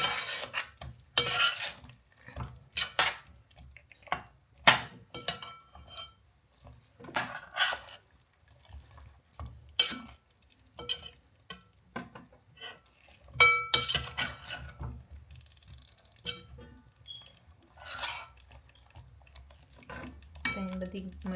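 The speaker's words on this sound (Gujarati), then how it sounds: "ધીરે ધીરે એક એક કરીને મરચાં મૂકી દઈએ અને એને પણ મસાલામાં મિક્સ કરતા જઈએ" Chillies being stirred one by one into a masala gravy in a pan, with repeated scraping and clinking of a spoon against metal in uneven bursts, over a faint low sizzle.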